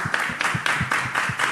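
Audience at a live samba-pagode bar show clapping hands in a steady rhythmic beat, a tight run of repeated claps over faint background music.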